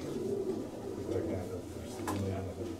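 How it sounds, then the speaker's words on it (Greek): Pigeons in a loft cooing in soft low repeated murmurs, several birds overlapping close by, with someone talking over them and a brief sharp noise near the end. "ωραία περιστέρια, παιδιά, πραγματικά"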